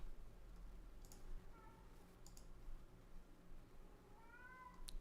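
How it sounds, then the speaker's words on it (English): A cat yowls loudly in a few drawn-out meows against a low background hum, with scattered keyboard clicks close by and no talking. "can you hear my cat just bawling out of his mind?"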